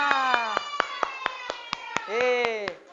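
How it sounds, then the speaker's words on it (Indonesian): Students in a classroom clap in a steady, rhythmic beat of sharp claps while their voices chant along in unison over the claps. "Tepuk tangan untuk kalian semua."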